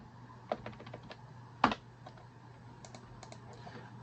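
Someone types on a computer keyboard close by: sparse, irregular clicks of keys with one louder tap, quiet over a low steady hum, with no voices.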